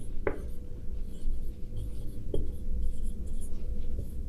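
Pen writing notes by hand on paper during a class 10 science lesson, soft scratchy strokes with a couple of sharp taps, steady and close against a low background hum.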